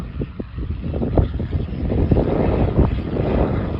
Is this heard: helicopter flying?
yes